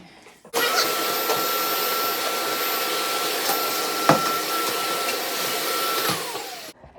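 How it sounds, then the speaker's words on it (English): A vacuum cleaner runs in a bathroom, switching on abruptly with a loud, steady motor whine and airflow hiss, a brief knock partway through, then cutting off and spinning down. "You always have to vacuum after that."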